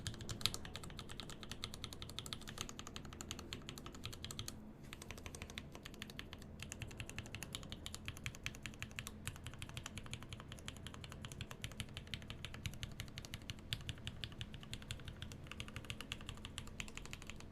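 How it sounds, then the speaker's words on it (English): Continuous fast typing on a mechanical keyboard with JWK switches and foam, a dense stream of close, slightly plasticky clacks with only brief pauses. "It does sound a little plasticky, as the JWK switches all tend to, in my experience."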